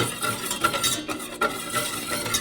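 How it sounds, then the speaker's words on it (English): Flour, water and milk are whisked together into a paste for homemade bread, a quick rhythmic scraping and clicking of a whisk against a bowl, close and alone. "And you just stir it, whisk it."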